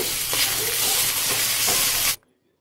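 Moringa leaves and dal are stirred in a hot pan over low flame with a loud, steady sizzle and soft scraping, then the sound cuts off abruptly.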